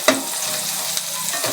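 Garlic and onion stir-fry in a hot pan, a steady close sizzle broken by a sharp scrape or clack of the utensil at the start and another partway through.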